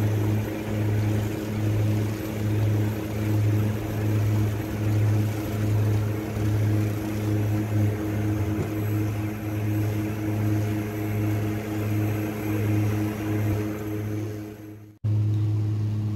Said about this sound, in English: On the plane, I was actually sat right at the front, so I got to take a video of them taking off.